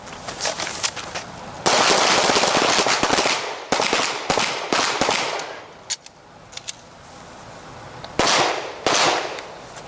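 Rapid bursts of handgun shots fired during a defensive shooting drill, loud and close, several quick strings of two to four rounds with short pauses between them.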